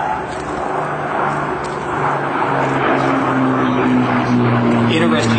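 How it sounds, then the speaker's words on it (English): An Avro Lancaster four-engine bomber flies past at an airshow, its steady propeller drone filling the air as a loud, sustained roar that swells slightly, with people talking over it. "Here comes our Lancaster bomber again"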